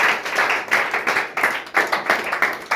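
A church congregation claps together in a steady, rhythmic beat, the close, loud hand claps repeating evenly without any talking.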